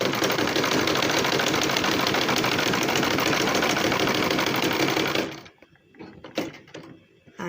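A sewing machine runs in a fast, steady whir while stitching aso oke fabric for a gele headtie, then stops abruptly, leaving faint handling clicks and rustles.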